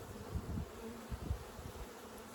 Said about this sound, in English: Lots and lots of drones down here.